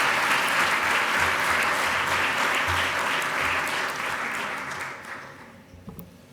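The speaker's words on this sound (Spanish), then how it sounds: "Un fuerte aplauso" An audience at a Spanish cybersecurity conference session applauds loudly and steadily for several seconds, the clapping thinning and fading out toward the end.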